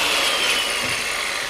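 Wood strip for wall paneling being cut with a saw, a brief, steady rasping cut heard up close and alone, lasting barely over a second.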